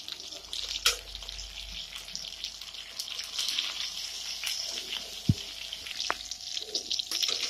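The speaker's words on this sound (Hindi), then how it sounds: "तो ऐसे ही हम अच्छे से बैंगन को फ्राई कर लेते हैं" Small eggplants frying in a pan give a soft, steady sizzle with scattered crackles and a few light clinks, heard close but fairly quiet.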